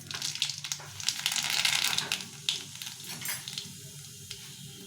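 Black cumin seeds hit hot oil in a pan and crackle into a dense, steady sizzle that swells early and then settles to a continuous frying hiss nearby.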